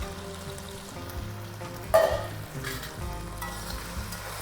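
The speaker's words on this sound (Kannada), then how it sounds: "ಟೊಮೊಟೊನು ಚೆನ್ನಾಗಿ ಫ್ರೈ ಆಗೋವರೆಗೂ ನಾವು ಬಾಡಿಸ್ಕೊಳ್ಳೋಣ" Sliced tomatoes and five or six green chillies fry in hot oil for a restaurant-style veg pulao, a steady close crackling sizzle with one louder stirring scrape partway through, then the frying continues.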